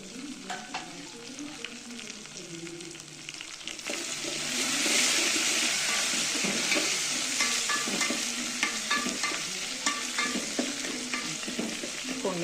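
Kadhi is tempered in a pot on a wood-fired chulha: soft stirring and clinking build into a louder, steady sizzle partway through, with occasional utensil taps close by and no talking.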